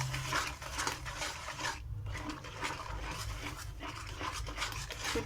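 Rice and coconut naru mixture scraped and rubbed slowly around a pan with a steady, close raspy stirring texture and no talk.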